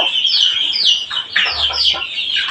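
Chicks around eight or nine days old peep and chirp in rapid, high, overlapping calls, close and loud, with a brief low rumble partway through.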